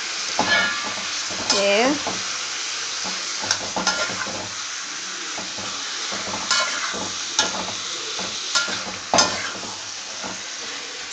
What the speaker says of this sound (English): you should lower the flame so that the chili powder doesn't get burnt. Keep stirring